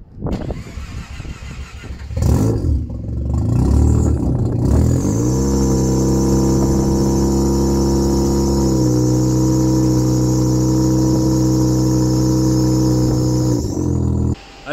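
A Mazda RX-8 rotary engine fitted with a new twin-silencer exhaust cranks and fires, then settles into a loud, steady idle that holds for several seconds before cutting off.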